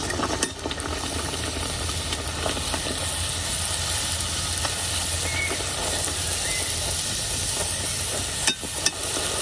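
Kachori frying in hot oil while oil is splashed over the tops, making a loud continuous sizzle and hiss with occasional sharp pops and clinks, no talking.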